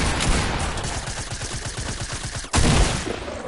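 Rapid video-game gunfire in a steady stream of shots, loud and close, with a brief dip before another burst; no speech over it.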